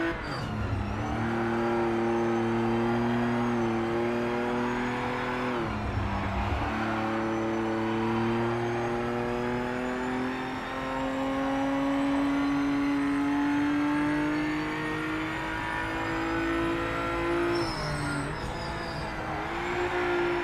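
A GT race car in Project Motor Racing, driven in a GT Icons session, keeps its engine roaring at high revs. Gear shifts bring brief drops, and the pitch climbs steadily through the long pulls, loud and close.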